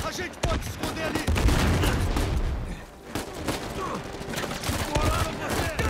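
Sustained gunfire and explosive bursts from the video game Uncharted 4 fill the scene, dense rapid shots layered with booms, with a brief lull near the middle, loud and continuous.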